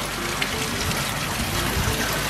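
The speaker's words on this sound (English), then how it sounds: "Another water feature here." Continuous trickling and splashing water from a water feature running into a pool, an even broadband wash of falling water close by with no other sounds.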